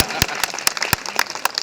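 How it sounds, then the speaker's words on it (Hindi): Clapping from a political rally crowd in Chhindwara, heard as sharp, scattered claps with a few louder bursts across the short stretch and no voices over them. "ठोको ताली"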